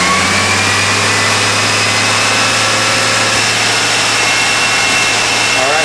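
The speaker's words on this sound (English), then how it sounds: "the best way to check it is actually run the engine up and get that compressor running" A car engine runs steadily with the air-conditioning compressor engaged, a loud constant idle drone with a whirring mechanical hum, close to the microphone and without talk.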